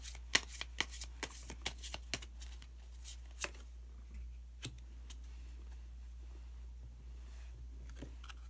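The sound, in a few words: tarot cards being shuffled and drawn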